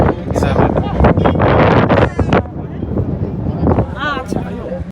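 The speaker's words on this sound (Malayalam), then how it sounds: "കുറച്ച് അങ്ങോട്ട് നല്ല കാറ്റുണ്ട്." Loud, steady wind buffets the microphone in gusts at Vypin Lighthouse in Kochi, with people talking underneath throughout.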